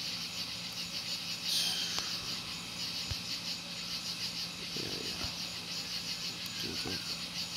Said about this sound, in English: I don't have any music playing except for the crickets in the background